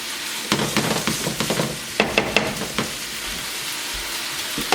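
Fire roasted diced tomatoes sizzle in a pan with steady, close frying hiss, broken by several sharp scraping stirs of a spoon clustered near the middle.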